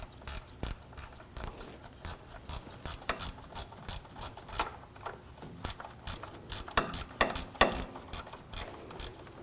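A ratchet repeatedly clicks in short bursts while tightening a bolt on a 2007-2013 BMW 328i 3.0L L6 water pump, the close, crisp pawl clatter coming in irregular strokes.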